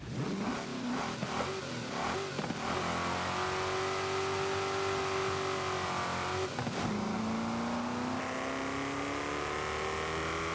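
A sports car engine in Forza Horizon 5 revs hard and climbs through the gears, a loud continuous roar with pitch rising and dropping at each shift.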